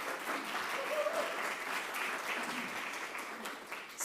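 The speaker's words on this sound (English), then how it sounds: "And I'm going to clap for that too." Audience applause at a graduate capstone symposium welcome address, a steady wash of many hands clapping that holds evenly throughout at moderate level with no talk over it.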